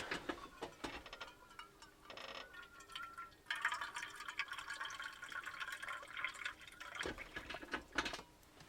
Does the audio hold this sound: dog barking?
no